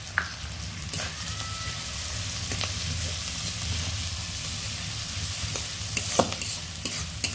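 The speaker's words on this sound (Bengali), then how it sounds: "এর মধ্যেই আমি দিয়ে দেবো মশলাটা, বেটে রাখা পুরোটাই দিয়ে দেবো" Ground spice paste sizzles and fries in a pan for pomfret fish curry, a steady close hiss with occasional scraping stir strokes and small spatters, no voices.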